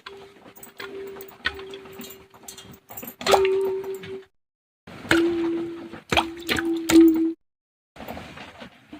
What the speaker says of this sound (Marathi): मी तो आता पाण्यात धुवून घ्यायचा आहे स्वच्छ करून घ्यायचा आहे